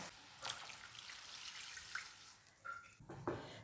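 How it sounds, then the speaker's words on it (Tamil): Water pours into a pan of roasted sago while Tamil semiya-sago payasam is cooked, a faint, steady trickle and splash running throughout with a few small clinks near the end. "2 கிளாஸ் தண்ணி ஆட் பண்ணிக்கலாம்."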